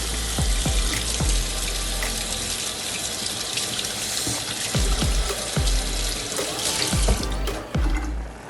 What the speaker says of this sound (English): you want to go ahead and wash this scotch bonnet pepper.